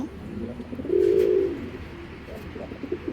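A female pigeon, just off her eggs, gives a single low throaty coo close by, a soft rolling call lasting about half a second against quiet room noise.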